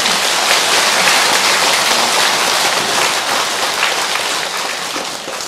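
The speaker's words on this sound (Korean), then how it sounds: "우리 함께 박수 한번 치시기 바랍니다" A crowd at a Buddhist dharma lecture on the Avatamsaka Sutra breaks into loud, sustained applause. The dense clapping fills the hall and tapers slightly toward the end, with no one speaking over it.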